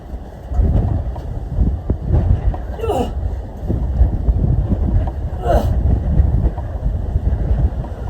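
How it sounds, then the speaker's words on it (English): Strong wind blowing outdoors, buffeting loudly in gusts with heavy low rumble, punctuated by a couple of brief higher whooshes. "it's really windy"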